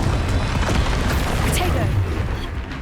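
Hogwarts Legacy Confringo spells cast at a troll, loud booming blasts with crackling bursts rolling through a few seconds, while a voice speaks over them.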